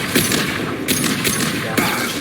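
Shotgun fire in Mass Effect 2 Legendary Edition, several loud close blasts at uneven intervals over dense combat noise.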